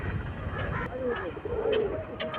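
Pigeons coo and call at a ground where people scatter grain for birds at Somnath's Triveni Sangam, soft throaty warbles rising over steady outdoor background noise, with faint voices nearby.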